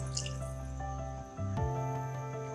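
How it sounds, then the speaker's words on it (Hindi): Soy sauce is poured into hot and sour soup, giving a soft liquid splash and drip over a steady simmering hum, close and fairly quiet with no talk. "सोया सॉस ऐड कर रही हूँ"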